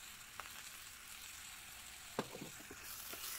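Garlic sizzling in an electric HotPot cooker: a quiet, steady hiss of frying with a few soft stirring clicks partway through, heard close and alone.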